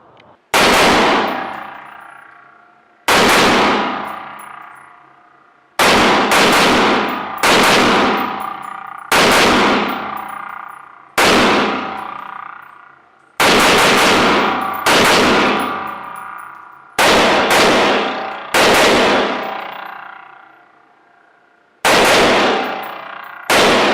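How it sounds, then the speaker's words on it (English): SAI GRY rifle fired in semi-auto: nine loud, separate shots at irregular intervals of roughly two to three seconds, each a sharp crack that rings out and fades, with no talking. "what I wanted you to see was someone's first time shooting this rifle in semi-auto"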